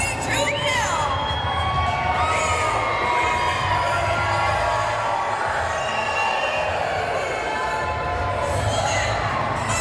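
Deafening crowd at a Capital City Wrestling championship event, roaring and cheering loudly and continuously, with high shrill shouts and whoops piercing the din throughout.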